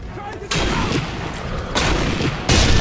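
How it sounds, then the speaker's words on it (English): Rifle fire in the video game Sniper Elite 3: three loud, sharp broadband shots land about a second apart, each followed by a sustained rumbling tail, over steady low game noise. "Shooting me with a rifle."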